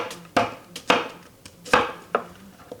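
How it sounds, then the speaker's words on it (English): A knife chops through onions on a cutting board, with about six sharp, irregularly spaced thuds close by and no voices. "so we're chopping up some onions right here."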